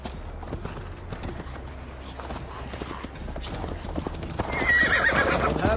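Horse hooves clip-clopping in Assassin's Creed Valhalla, a steady run of rhythmic hoofbeats that grows louder toward the end, ending with a whinny.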